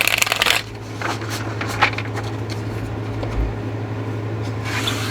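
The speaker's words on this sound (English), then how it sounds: "I'm going to shuffle these cards real quick." A deck of oracle cards is shuffled by hand, giving a steady, close papery riffling and sliding over a low background hum, with a louder flurry at the start.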